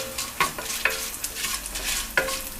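Urad dal and torn tamarind roast in a pan for ginger chutney, a soft sizzle with a few distinct scraping strokes of a stirring spoon, close and without speech.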